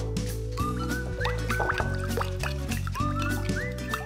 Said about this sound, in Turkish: Birazcık da su koyuyorum.